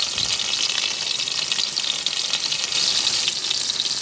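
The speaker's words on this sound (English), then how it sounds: "Now I'm adding the tomato." Tomato sizzling and frying in a pan for a Sunday dinner of jerk chicken, a steady close hiss of bubbling liquid running throughout without pause.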